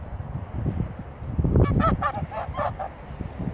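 Rooster being chased outdoors in the countryside, giving a short burst of loud squawking calls midway through, over rustling and background noise.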